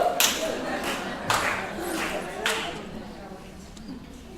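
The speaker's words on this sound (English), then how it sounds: "Anyone else want to do a slow clap?" A few slow, spaced claps ring out from an audience at a reading education talk, roughly one per second, loud and sharp, fading into quieter room noise afterward.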